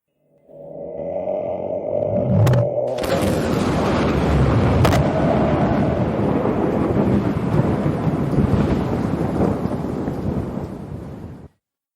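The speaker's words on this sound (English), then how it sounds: "Did I just hear thunder," Thunder bursts in suddenly and rolls on as a long, loud, sustained rumble with crackling texture before cutting off sharply; no one speaks.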